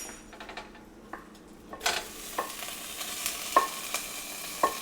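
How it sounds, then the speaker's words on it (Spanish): Mashed potato for fried potato-and-cheese empanadas frying in oil: a steady sizzle broken by scraping and clinking utensil strokes against the pan, close and growing busier, no voices. "Y después de machucarla los vamos a poner en el aceite."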